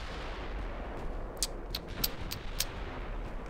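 Naval guns firing in the warship game Ultimate Admiral: Dreadnoughts: five or six sharp distant reports at irregular intervals over a constant low rumble of sea and engine noise, with no talking.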